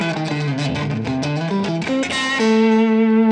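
A Carvin Bolt electric guitar with a black limba body plays a quick descending run of notes and ends on a sustained chord, heard through a slightly gritty, near-clean amp with light compression and reverb.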